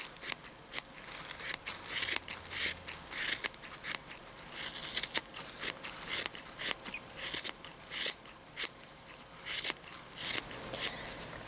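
Scissors trimming a yarn pom-pom, a close series of quick crisp snips in irregular bursts, with brief pauses between groups of cuts and no talking.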